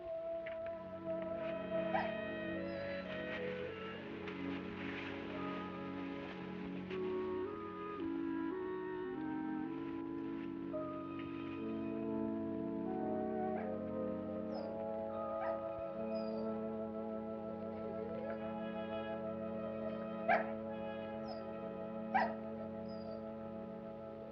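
A pet dog whimpers and gives a couple of short yips over orchestral film music in a 1946 drama, the dog sounds brief and partly masked by the score.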